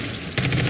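Shotgun fire in Far Cry 5's zombie DLC: a quiet low stretch, then an abrupt loud blast with rolling, dense gunfire texture continuing to the end, no talk.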